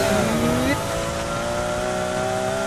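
An Aston Martin Vulcan hypercar in Need for Speed Heat brakes into a corner and slides, with a loud engine note rising then dropping sharply before settling into a steady drone with a faint tire squeal, under a voice.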